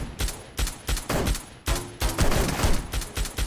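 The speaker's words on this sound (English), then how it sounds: "who's fucking shooting at me?" Rapid bursts of video game gunfire, loud and close, with repeated shots in quick rhythmic volleys and a brief pause before a denser stretch of firing.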